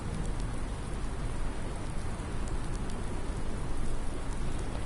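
Steady, dense rain hisses throughout a rural farm scene in the video game Farming Simulator 19, a continuous loud downpour with no voices.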